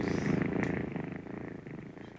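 A cat purrs close and loud in a steady, rumbling rhythm of pulsing breaths, with no talk over it.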